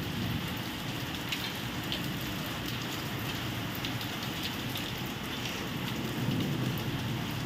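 Steady heavy rain pours close by in an unbroken wash, with low rumbles of thunder rolling beneath it the whole time and no talking.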